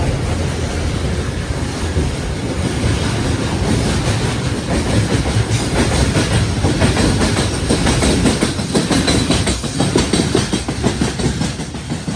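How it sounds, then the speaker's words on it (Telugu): A goods train rolls past in the morning, a loud, close, continuous rumble with rhythmic clickety-clack of wagon wheels over the rails, sustained throughout without speech. "పొద్దున్నే గూడ్స్ దర్శనం."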